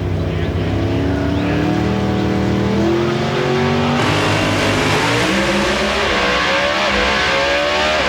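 Loud NHRA drag race cars launching off the starting line at the 2002 Las Vegas nationals, engines roaring and climbing through gears, with an announcer calling the run over the din.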